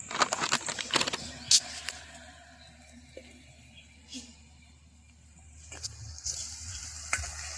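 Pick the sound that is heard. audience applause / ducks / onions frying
onions frying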